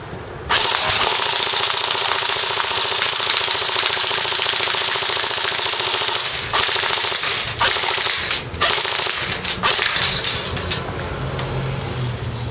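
A CYMA Galil airsoft gun fires full auto at a can on a 9.6 volt battery, a dense rapid mechanical chatter that runs loud and unbroken for several seconds, then breaks into shorter bursts and stops.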